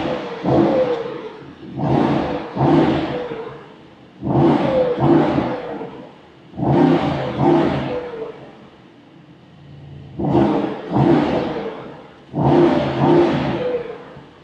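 A powerful 2024 Mercedes-AMG GT63 Coupe engine revs loudly in repeated bursts, roaring up and dropping back several times with brief pauses between, close and dominant.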